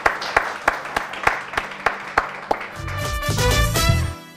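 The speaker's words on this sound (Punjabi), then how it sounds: "ਸੋ ਇੱਕ ਵਾਰ ਜ਼ੋਰਦਾਰ ਤਾੜੀਆਂ ਜੀ ਮਧੂ ਜੀ ਲਈ" An audience at a cooking competition grand finale gives a contestant a round of applause: a few separate loud claps, then a brief dense burst of clapping from the crowd, close and ending abruptly.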